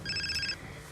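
An electronic telephone ring sounds in a short pulsing burst of repeated tones at moderate distance, then stops, leaving a quiet room hum.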